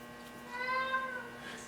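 A house cat howls once in a workshop setting, a drawn-out, wavering yowl lasting about a second, fairly faint and somewhat distant over a steady low electrical hum.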